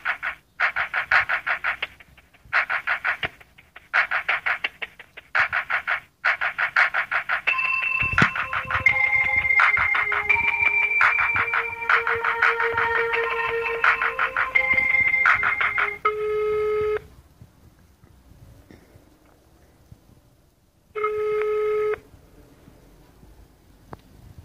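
Phone line signals during a call transfer: a rapid sequence of bright electronic ringing pulses gives way to a longer run of warbling melodic tones, then quieter gaps and one final short ring.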